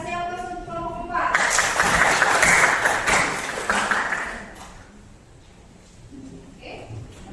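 An audience bursts into applause for group 4, a dense clatter of clapping that rises after a second, holds for about three seconds, then dies away into quiet room noise with voices nearby.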